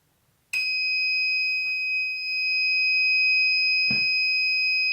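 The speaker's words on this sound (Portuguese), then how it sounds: "acionou o alarme na verdade, o indicador sonoro, o buzzer apenas, não acionou a sirene" An Ouzer wireless fire alarm system sounding its buzzer after a battery swap, a sudden shrill continuous electronic tone that starts abruptly and holds steady, with a couple of soft knocks underneath.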